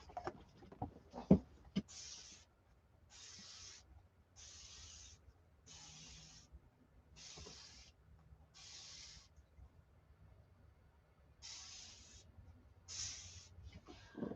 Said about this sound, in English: I need to spray this down.